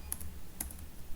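Someone types on a computer keyboard while entering code, with a few light, crisp key clicks in two small bursts against a faint steady background hum.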